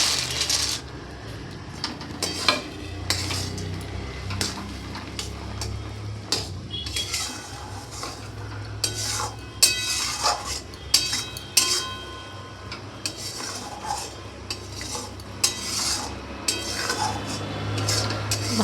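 Peanuts tipped into melted jaggery in a pan and stirred, a series of close hard clicks, rattles and scrapes of spoon against metal, irregular and busy over a faint low background.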